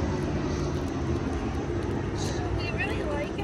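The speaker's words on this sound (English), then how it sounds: "hurry up because there's a plane coming" An airplane passes near an airport, a broad, steady engine roar filling the scene at close range, loud and continuous, with faint traces of voices underneath.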